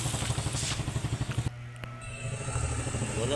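A Yamaha Fazzio scooter, one with a battery fault and a check-engine light, has its engine running close by. There's a steady low putter with a short break partway through.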